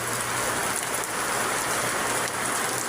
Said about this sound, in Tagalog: Malakas ang ulan guys.